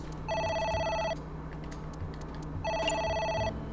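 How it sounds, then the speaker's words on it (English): A telephone rings in the AI: The Somnium Files video game, two electronic trilling bursts about a second long separated by a pause, fairly quiet over faint background hum. "now we got the phone call. It's ringing again."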